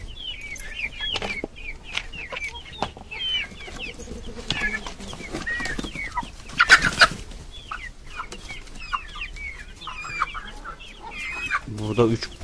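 Many chickens and chicks, aged three weeks to three and a half months, cluck and cheep continuously nearby, a busy overlapping chorus with occasional louder squawks.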